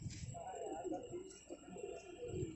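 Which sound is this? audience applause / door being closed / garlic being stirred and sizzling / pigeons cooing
pigeons cooing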